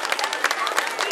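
Applause from parents and audience at an end-of-year nursery school play in Cesa, Italy: a dense, steady wash of clapping from a crowd, close and fairly loud, with murmuring voices mixed in.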